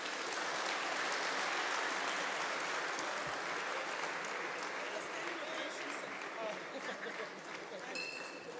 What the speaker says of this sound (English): A standing ovation for our Honorable Premier.